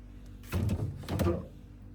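A single soft thud of a refrigerator door being shut nearby, with a brief rattle after, in an otherwise quiet room.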